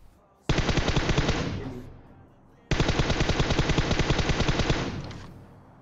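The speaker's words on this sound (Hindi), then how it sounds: "आगे भी जोर से गोलियां चल रही थी" Automatic gunfire in the mobile shooter PUBG Mobile, two loud sustained bursts of rapid shots, each lasting about two seconds, separated by a short pause.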